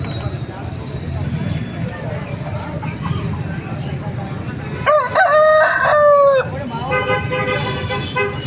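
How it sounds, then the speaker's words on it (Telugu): Roosters crow at a busy chicken market in Eluru, with one long, loud call and a shorter second crow over constant crowd chatter and market bustle. "కోడిపుంజులు మాత్రం చాలా బాగా వచ్చినాయి. చాలా అంటే చాలా అగ్రెసివ్గా ఉన్నాయి కోడిపుంజులు."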